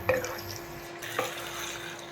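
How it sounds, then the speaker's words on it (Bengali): Vegetables for dudh shukto stirred in a pan: a soft, steady scraping and faint sizzle with a couple of light clinks of the spoon, quiet and close, over a constant low hum. "সবজিগুলো আমি ভালো করে মিশিয়ে নিয়েছি।"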